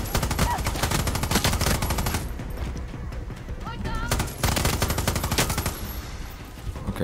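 Rapid bursts of automatic gunfire from the video game Far Cry 6 crackle loud and close, with a brief lull in the middle before another long volley.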